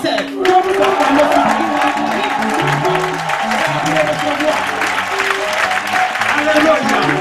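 A church congregation applauds throughout, with dense steady clapping and crowd noise, while a voice speaks over it and music plays underneath.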